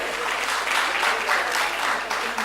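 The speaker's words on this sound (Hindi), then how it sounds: "इनके सम्मान में भी जोरदार ताली" Loud, steady applause from a seated audience at a Hindi official-language award ceremony in Kolkata, a dense wash of clapping sustained throughout with no gaps.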